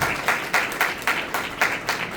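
A church congregation claps together in a steady, brisk rhythm, about four claps a second, loud and evenly spaced with no talk over it.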